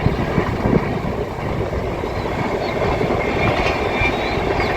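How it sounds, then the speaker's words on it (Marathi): A train rolls past beside farm fields with a continuous heavy rumble and rattle, loud and steady throughout, no voices. "तर ही रेल्वे आमच्या शेतामधूनच जाते."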